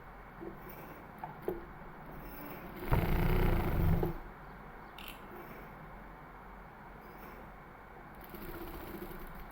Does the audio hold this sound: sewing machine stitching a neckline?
yes